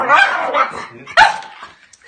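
A 7-month-old Cocker Spaniel puppy barks close by. Two sharp, high yipping barks come about a second apart, each trailing off into a whiny tail.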